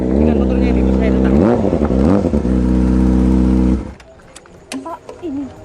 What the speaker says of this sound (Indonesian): Dengan motornya ini, bos saya datang.